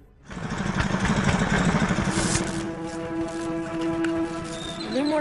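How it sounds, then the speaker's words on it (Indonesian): A village-owned electric generator engine starts up and runs with a steady, droning hum that carries a rhythmic chugging, close and loud for the whole stretch. "sang kepala desa memberikan mesin generator listrik milik desa untuk digunakan oleh Solo."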